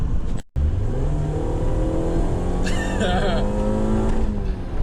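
A 2006 Mini Cooper S engine drones loudly and steadily nearby while driving, its pitch rising and shifting as it revs, with a brief dropout near the start.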